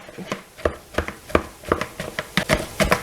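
Cooked food mashed with light butter and pepper in a bowl, a run of about a dozen soft, squelchy presses and knocks at an uneven rhythm, close by with no talking.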